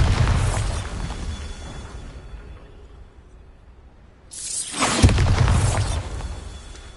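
Bombarda spell blasts in the video game Hogwarts Legacy: a loud booming explosion that fades over a few seconds, then a second sharp, bright burst that rings out and slowly decays.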